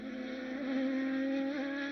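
Champ Car open-wheel race car from the 2006 West Edmonton Mall Grand Prix passing on the street circuit, a steady high engine drone with a slight pitch shift as it goes by, fairly close and continuous.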